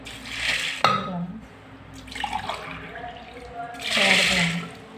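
Water poured by the glassful into a pressure cooker, two splashing pours with a clink of the glass between them and soft talk in the pauses.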